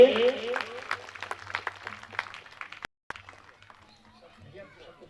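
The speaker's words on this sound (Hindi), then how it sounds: "क्या सभी लोग तालियों के साथ उनका स्वागत करेंगे" Applause from an audience welcoming a guest at a 51-kund yagya gathering in Jhangatola, Mandla, a dense patter of clapping that thins and fades out toward the end, with voices mixed in.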